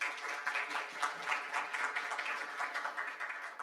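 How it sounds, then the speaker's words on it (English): Conference audience applauding presenters at a Korean exercise society international conference, an even, continuous clapping texture from a room full of people, moderately loud throughout. "Please give them a big applause."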